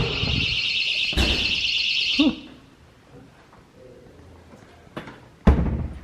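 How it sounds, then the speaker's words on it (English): In an old historic hospital, an alarm sounds as a loud, steady, high-pitched tone for about two seconds and then cuts off, followed by quiet room noise and a few sharp knocks or bangs. "Like an alarm just went off."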